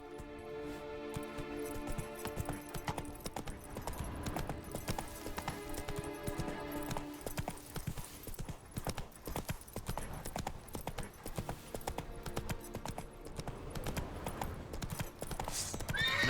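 A horse in the video game The Witcher 3 trots with rapid, even clip-clop hoofbeats throughout, and neighs loudly near the start and again near the end, with a faint jangle of tack.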